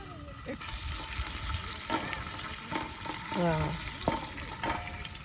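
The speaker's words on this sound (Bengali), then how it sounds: "শুরু হয়ে গেল আমাদের খিচুড়ি রান্না।" Khichuri frying and being stirred in oil in a pot outdoors beside a lake, a steady close sizzle broken by a few clanking stirs and scrapes, with bits of talk.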